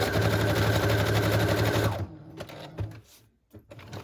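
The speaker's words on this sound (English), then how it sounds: "I'm also going to sew the center of the pocket." A sewing machine stitches down the center of a fabric pocket on a handmade journal, running in a loud, fast, steady whir for about two seconds, then stopping, followed by faint handling clicks and rustles.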